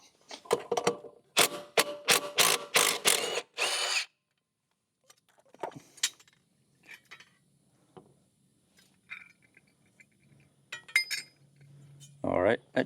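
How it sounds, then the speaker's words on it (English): Impact wrench with a 9/16 chrome socket removing a lawn mower blade: several loud, rapid hammering bursts in quick succession, then quiet clinks of metal and tool handling. "we're just going to use a 9/16 socket on the impact"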